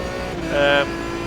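An Aston Martin DBR9 GT1 in the iRacing sim gives a quick downshift throttle blip that briefly lifts the engine note above its steady drone, with a voice talking over it.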